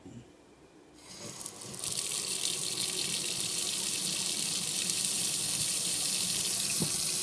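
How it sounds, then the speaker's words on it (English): Water from a Koralia 900 L/H circulation pump gushes steadily into a kitchen sink, starting softly and swelling after about a second into a loud, continuous hiss and splash that holds to the end. "You see the water running down the sink? And you can hear the pressure of the water."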